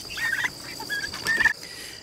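Turkeys gobbling on a farm field, a few quick warbling gobbles in short bursts, fairly close and clear with no talking.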